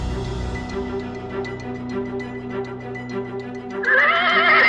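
A Shire horse, a huge heavy draught breed, gives a loud, close neigh that rises into a long wavering whinny near the end, over steady low background sound.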